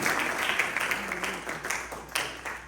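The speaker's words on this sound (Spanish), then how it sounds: "Un aplauso al Señor." A church congregation applauding, broad dense clapping from many hands filling the room for a few seconds, moderately loud, with no clear speech over it.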